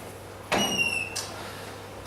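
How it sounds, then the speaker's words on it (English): A door is pushed shut in a room, one sharp thud with a brief ringing tone after it, then a quieter second knock and room hush. "So I shut the door."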